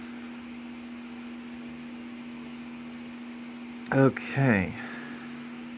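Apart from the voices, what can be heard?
Bean resin 3D printer running with fan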